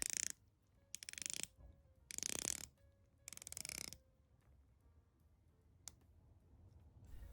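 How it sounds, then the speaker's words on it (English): A Zelos Swordfish watch's 120-click stainless steel bezel is rotated in four quick bursts of dense ratcheting clicks, loud and close, followed by a few faint isolated clicks in a quiet room. "We have a 120-click stainless steel fully loomed bezel, and the bezel action is really nice on this one"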